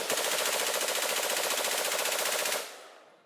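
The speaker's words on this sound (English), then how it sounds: "Here's the guns we have now." A sustained burst of rapid machine-gun fire played in a TV comedy studio: loud, even, rattling shots for about two and a half seconds that cut off abruptly into a fading tail.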